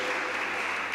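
Steady, dense applause from an audience in Christ Church Cathedral, Newcastle, a continuous wash of clapping hands echoing through the space, moderately loud and unbroken.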